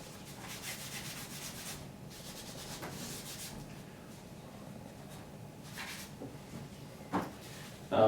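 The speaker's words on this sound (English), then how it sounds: "I use one of these gun scrubbers to clean the exterior of the gun." Scrubbing brush rubbing over the exterior of a TP-9 pistol with a synthetic frame to clear gun oil, giving a steady, quiet back-and-forth scrubbing noise close up, with a sharper scrape near the end.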